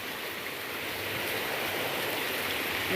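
Floodwater rushes into a house yard during heavy monsoon rain, a continuous, dense, moderately loud wash of flowing water that swells slightly as it goes on, with no talking.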